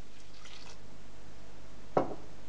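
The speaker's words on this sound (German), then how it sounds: "jetzt kommt nochmal 100 Milliliter Wasser rein" About 100 ml of water goes into a pot of simmering red lentils for mercimek köfte. It lands as a single short splash late in an otherwise quiet moment, with no talking.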